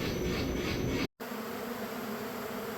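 Honey bees swarm over honey spilled during the end of a honey harvest, giving a steady, close, dense buzz that drops out briefly partway through and then carries on at the same level.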